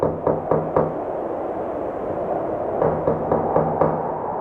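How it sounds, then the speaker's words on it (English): A heavy door knocker slams against giant snow-swept doors in two bursts of three loud, evenly spaced knocks, a pause between them, each impact ringing out with a hollow, weighty thud. "Eshu slammed the bulky door knocker against the giant snow-swept doors for the dozenth time"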